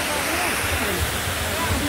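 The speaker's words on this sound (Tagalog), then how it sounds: "Yan, ito na yung falls guys." Waterfall in Wadi Namar near Riyadh, a steady broadband rush of falling water that stays loud and constant throughout, with faint voices mixed under the roar.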